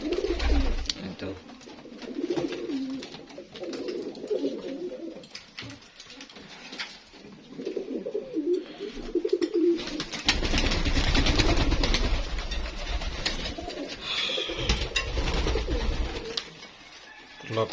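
Fancy pigeons in a loft coo in soft, repeated bursts, close by, with a low rumble and some background voices later on.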